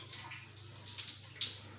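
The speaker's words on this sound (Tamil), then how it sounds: "இப்போ இது கீழே திருவினா தான் தண்ணி வரும்" Water from a tap in a hostel common bathroom splashes in uneven bursts over a low steady hum, fairly faint and close, with no one speaking.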